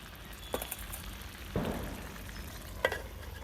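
Broiler chicken meat being stir-fried (koshano) in a pot in a village kitchen, with a faint steady sizzle broken by a few brief scraping stirs.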